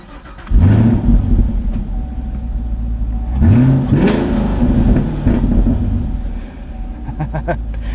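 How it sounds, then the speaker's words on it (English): A 2023 Camaro SS 1LE V8 engine cranks and roars to life, then settles into a deep rumbling idle before a second loud rev and a steady burble close by. "the best thing about this Camaro SS1 LE is just starting it up first thing in the morning"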